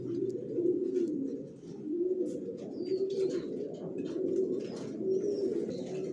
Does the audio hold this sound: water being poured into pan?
no